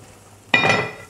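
Chicken pieces for shawarma land in a hot pan with a sudden loud sizzle that swells and then slowly fades, set against a quiet kitchen background.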